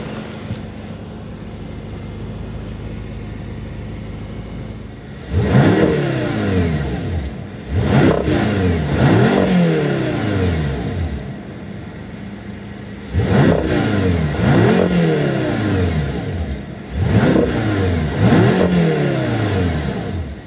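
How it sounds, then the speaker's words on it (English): A 2014 BMW M6 Gran Coupe idles at first, then its engine revs hard in two separate bursts of repeated sharp throttle blips, each rising and falling with a loud, close exhaust note. "nice and free revving, and gives a very unique exhaust note, definitely more potent than a standard 650 Gran Coupe."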